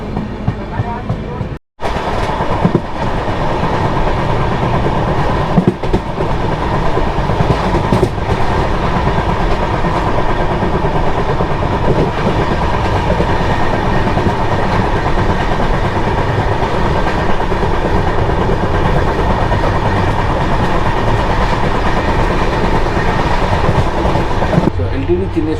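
The Chennai Express, Mumbai LTT to Chennai Central, rolls along the rails in a loud, steady rumble with faint clickety-clack, heard from inside a coach after a brief dropout near the start.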